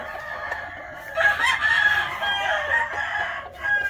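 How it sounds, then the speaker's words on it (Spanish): A Stuart Yellow Leg Hatch gamecock, a breeding stud rooster, lets out one drawn-out crow, fairly close and clear, rising after a quieter opening with faint clucking around it. "Una chulada de gallo."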